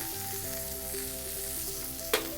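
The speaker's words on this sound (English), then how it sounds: "We're gonna finish this steak completely in the pan" Veal steak searing in a hot pan gives a steady, close frying sizzle throughout, with a brief sharper crackle near the end as the meat is moved.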